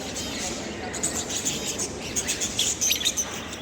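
Lovebirds chirp in quick, high, overlapping bursts, growing busier toward the end, over a constant low hum.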